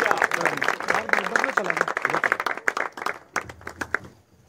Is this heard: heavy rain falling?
no